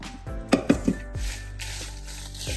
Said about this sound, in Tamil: மிச்ச மிளகாயை நான் வறுத்தெடுக்க போகிறேன்.